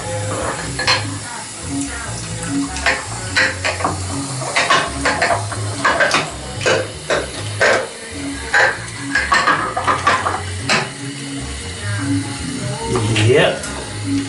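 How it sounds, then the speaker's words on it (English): Dye brush and bowl being washed after beard and hair dyeing: water runs while the brush and bowl clatter and scrape. A person talks over the washing sounds. "wash the brush and the bowl."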